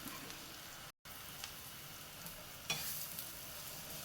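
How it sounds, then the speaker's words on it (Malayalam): Chicken sausage pepper fry sizzles in a pan while it is stirred, a soft crackling hiss with a short gap and a brief scrape near the middle. "ഇനി നമുക്കിതൊന്ന് ഇളക്കി മിക്സ് ചെയ്യാം."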